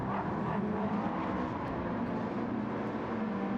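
A race car in a street car showdown brakes hard into a hilltop corner, its engine a steady, mid-distance drone with a constant tonal whine throughout and no voices.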